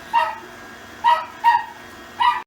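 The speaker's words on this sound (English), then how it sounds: "The neighbors outside have let their dog out, so Buster's going to join us" A neighbors' dog barks outside, four short yipping barks at fairly close range, spaced irregularly over a quiet background.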